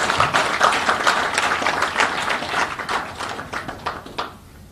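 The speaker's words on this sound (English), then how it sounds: "I think they deserve a big round of applause for this." Audience applause at a 42nd Foundation Day celebration attended by a state governor, a dense burst of clapping from a crowd that tapers off over several seconds.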